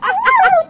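A dog gives one short, whining bark-like yelp with a rising and falling pitch, close and clear, in a clothing shop setting.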